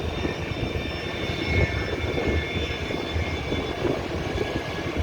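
Two air force airplanes out from the hangar on an airport runway send up a continuous, loud engine roar with a high whine layered on top, steady throughout with no voices.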